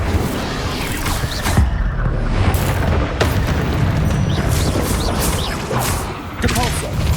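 Repeated Incendio fire spells in the Hogwarts Legacy game on PC, a sustained barrage of booming bursts and crackling flame over a dense battle din, loud and close, with short whooshing flourishes and a voice cutting in briefly.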